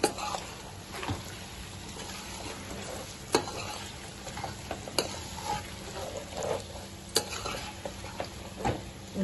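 A spoon stirs tomato chicken curry masala in a pan, with a soft steady sizzle of frying underneath and several sharp scrapes and clinks of utensil against the metal pan, close and alone without talk.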